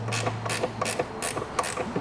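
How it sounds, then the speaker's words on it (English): A combination ratchet clicks in quick, regular pawl bursts while tightening a bolt on a Vespa P200 scooter engine, close and crisp with no talk. "I like using a ratchet, combination ratchet like this"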